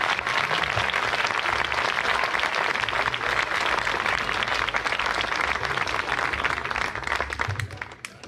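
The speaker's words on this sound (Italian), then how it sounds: "vada in centro, maestro, a prendersi l'applauso" Dense, sustained applause from a concert audience after a band piece fills the space evenly for several seconds, then begins to fade out at the end.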